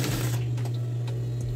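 A sewing machine runs steadily, stitching fabric for a girl's A-line dress lining, a low motor hum with faint clicks of the needle mechanism, close and continuous with no talk.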